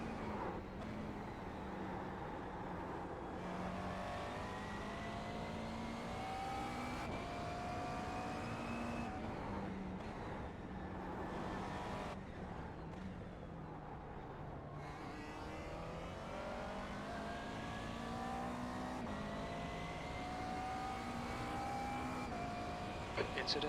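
A McLaren MP4-12C GT3 in a racing video game runs continuously, its engine and transmission whine rising and falling through gear changes, steady and prominent with a voice talking over it.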